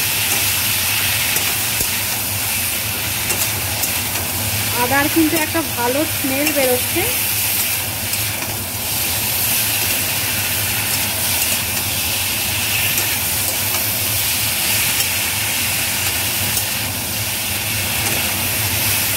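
A spice paste with ginger frying in a kadai gives a steady close sizzle and hiss with stirring scrapes, while a voice speaks briefly over the cooking noise.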